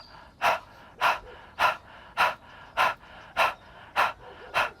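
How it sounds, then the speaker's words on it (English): A person pants like a dog, pushing short breaths out through the mouth in a breathing exercise: eight even, sharp exhalations at a steady rhythm, close and clear, alone without speech. "we're going to start by gently panting like a dog together out the mouth"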